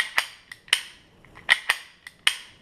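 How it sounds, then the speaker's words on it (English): Dry firing a Ruger Mark III 22/45 Lite pistol with the magazine out gives sharp metallic hammer clicks. About seven of them come close and distinct in an irregular rhythm, some louder than others. "Dry fire without the magazine in."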